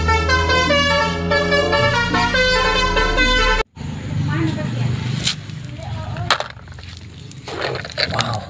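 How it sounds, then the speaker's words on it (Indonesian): A toy bus's telolet horn plays a bright, tooting electronic melody for about three seconds, then cuts off abruptly into clattering, rattling handling noises from the toy. "Wow, ini ada bus telolet."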